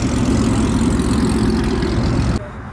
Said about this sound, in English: Then we got the Performance Pack Mustang also rolling out behind him.